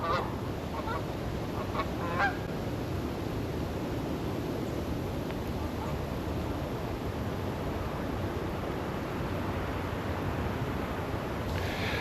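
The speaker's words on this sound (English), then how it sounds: "Looks like the geese are all trying to find a good safe spot." Geese honk faintly in scattered calls early on, heard through a steady roar of wind during a snowy winter storm at a camping spot, with no talk.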